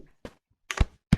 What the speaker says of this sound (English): Lots of ammo. Let me reload.